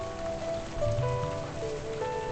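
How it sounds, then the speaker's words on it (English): Steady pouring rain in the noir game Figment 2: Creed Valley, a dense continuous wash of rainfall with tonal music lines drifting through it, no voices. "On nights like this, the rain doesn't stop pouring."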